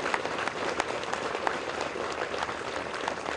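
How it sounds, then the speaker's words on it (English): An outdoor audience at a 1st Marine Division memorial dedication at Camp Pendleton, California applauds the Marine Band, a continuous moderately loud patter of many hands with sharper individual claps. "let's give them a round of applause"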